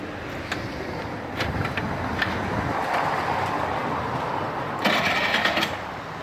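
Honda Shadow 90cc motorcycle, fuel and carburetor just cleaned, being started: a steady mechanical engine drone throughout, with several short sharp bursts and a louder rasping surge near the end.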